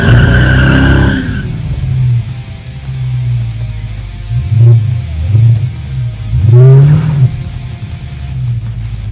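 A 2016 Dodge Charger Hellcat, 707 horsepower, roars loudly as its tires spin and skid, with a few rising engine surges and squealing bursts close by.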